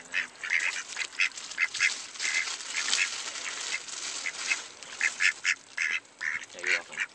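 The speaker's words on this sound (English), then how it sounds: "Only 3 ducks in this whole pond." Several ducks at a pond quack repeatedly in short, loud bursts and pauses, close by, with no talking.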